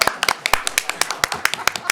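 Applause at a county commissioners' board meeting: a couple of seconds of brisk, fairly sparse hand claps in a quick uneven rhythm, close and clear, with no talk over them.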